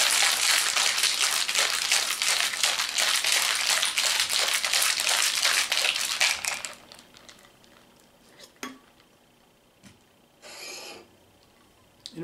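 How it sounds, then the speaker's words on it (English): A Strega cocktail is shaken hard with ice in a shaker, a loud rattling wash that stops after about six seconds, followed by a few faint clinks and a soft pour with no speaking. "I'm going to give her a shake."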